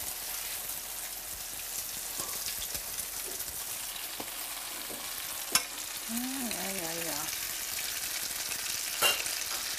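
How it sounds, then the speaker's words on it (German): Cheese slices sizzle in a hot frying pan, a soft continuous crackle and spatter with a few sharper pops and a brief clink of utensils, fairly quiet and without talk. "Im heissen Brattanken will Vreni die Käseschnitte schön goldig bräteln."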